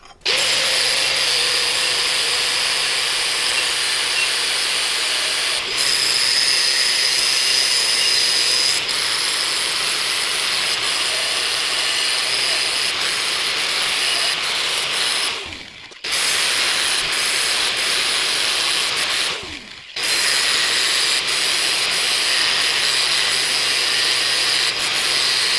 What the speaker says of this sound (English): I'm going to use our grinder here, and we'll clean up all these edges so that it fits perfectly on there